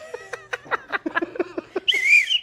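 A short, shrill whistle blast sounds near the end, loud and close, right after a stretch of people talking.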